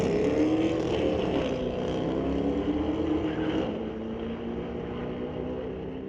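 A 2024 C8 Corvette and a 2009 Pontiac G8 drag racing at a street-legal drag night at a raceway: a steady, loud engine roar with a rising and falling pitch as the cars pull away, holding for several seconds without talk.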